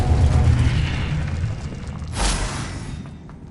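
A Confringo blasting spell goes off in the Hogwarts Legacy video game, a loud rumbling boom followed by a sharp burst that fades out.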